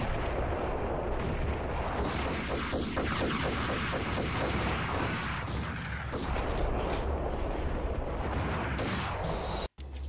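Gunfire from the Max Payne video game, a dense rumble of shots with a run of rapid repeated bursts in the middle, loud and continuous with a sharp cut near the end.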